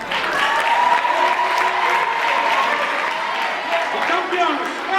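An audience at a school science and maths champions awards ceremony claps steadily for the winning team, dense continuous applause filling the room with a few voices mixed in.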